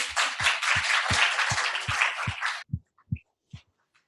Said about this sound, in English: So why don't we give him a round of applause.